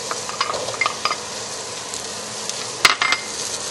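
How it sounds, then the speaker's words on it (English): Chopped onions fry in heated oil in a pan for sweet and sour pork, giving a steady close sizzle throughout with occasional stirring scrapes and a brief metallic clink near the end. "So as our oil's heated through here, we can put in our onions."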